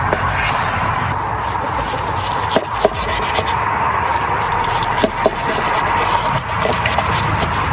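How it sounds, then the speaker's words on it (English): A survival-style chef knife saws steadily through a smoked leg of lamb cooked in hay, making a continuous close, raspy scraping with no talking. "So we're gonna go ahead and use this knife to start cutting our lamb."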